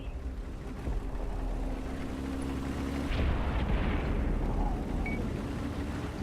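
Tank cannon fire in the console version of World of Tanks, from a Super Pershing T26E4, with a heavy boom rolling out about three seconds in over steady engine rumble and battle noise.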